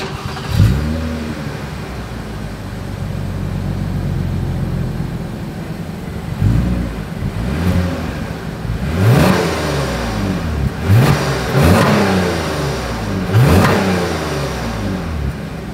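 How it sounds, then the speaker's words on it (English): A 2025 Lexus ES 350 sedan's engine starts and then revs several times with its exhaust note, sharp rising bursts spaced a couple of seconds apart over a steady idle, loud and close. "As always, here is that exhaust clip."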